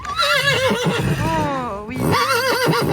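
A loud, close horse whinny with shaky, wavering pitch rises and falls, over a short spoken phrase and brief outdoor noise at a show-jumping competition.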